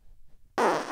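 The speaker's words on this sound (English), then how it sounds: "Here comes a fart, motherfuckers." A single fart, abrupt and loud, bursts out after a short near-silent pause and holds as a raspy, sustained blast to the end.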